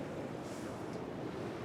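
Ocean waves washing ashore along a seascape at sunset, a continuous broad surf roar with a slight swell in the middle, heard alone with no voices.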